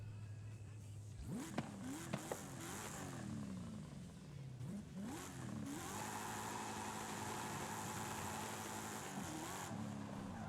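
A Chevrolet Camaro ZL1 V8 engine of about 1000 horsepower in the video game Forza Horizon 5 revs up several times in rising bursts, then settles into a steady high-pitched roar with brief throttle changes.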